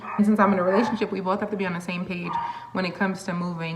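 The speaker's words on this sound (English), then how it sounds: "my little chihuahua, he's barking." Small chihuahua barking in short yappy bursts at home, mixed under continuous close talking from a woman.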